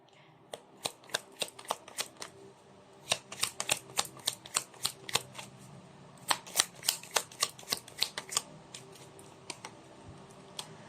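Oracle cards riffled and shuffled close up in a quiet room, a long run of sharp, rapid flicking snaps in irregular bursts with brief pauses between.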